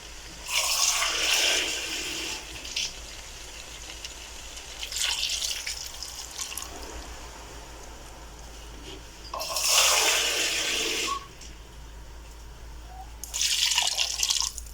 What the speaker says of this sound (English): I will add in a cup of water rather.